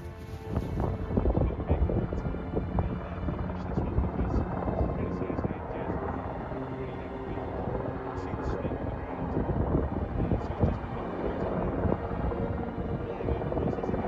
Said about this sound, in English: Coast Guard helicopter is circling at the moment.